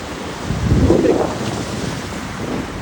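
Wind and sea waves on the shore at Lebedivka make a steady rushing roar, with a swell of surf around the middle before it settles back to a constant wash.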